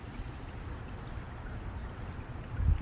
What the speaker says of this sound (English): Little waterfall starting.